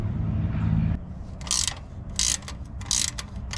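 Ratchet with a deep socket working loose a motorcycle muffler bolt, close and clear: several short bursts of rapid clicking separated by pauses, following a low rumbling start.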